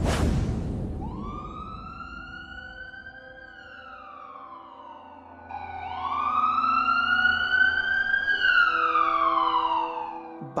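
A wailing ambulance siren in a cartoon rises and falls in long sweeps, growing louder midway as the ambulance draws closer.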